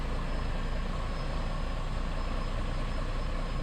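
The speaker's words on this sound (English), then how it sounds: "This truck drives awesome. It sounds good." A truck engine drones steadily while driving, a constant broadband rumble with road and wind noise that stays loud and even throughout, with no voices.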